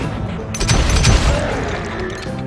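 Shootout gunfire in the Western game Call of Juarez Gunslinger, a dense burst of booming shots and crashes swelling in the middle of the moment, then easing into a lower rumble.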